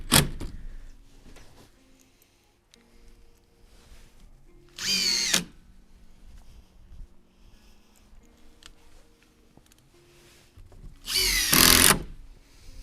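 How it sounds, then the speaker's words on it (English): Power drill driving screws into a large garden structure, two loud bursts of whirring a few seconds apart plus a brief burst at the start, with quiet handling noise and clicks between. "as you drive those screws in"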